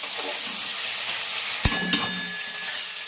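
Capsicum peppers frying in a pan, with a steady broadband sizzle throughout and a couple of sharp clinks from stirring partway through. There is no talking.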